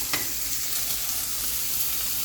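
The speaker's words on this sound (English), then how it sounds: "2 pans of bacon going here because I've got almost a pound." Nearly a pound of bacon sizzles and crackles in two cast iron pans, a steady close frying hiss with small pops and a brief scrape of stirring early on.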